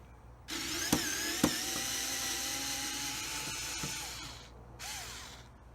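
Screws are taken out of the metal bar on an E-100 electric scooter with a small power driver, which gives a close whirring run, sharp clicks, and a second brief burst after a pause.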